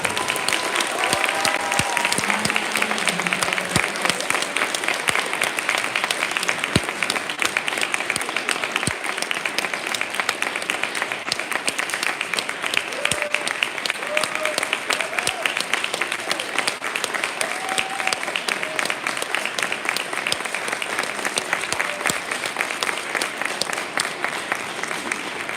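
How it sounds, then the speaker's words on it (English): Sustained audience applause fills a school district business club's end-of-year banquet, dense steady clapping holding for about twenty-five seconds with some faint crowd murmur and voices underneath. "Can we get a round of applause for Mr."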